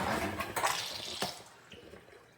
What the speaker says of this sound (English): when I turn the water on, this is how powerful the water is coming out of the tap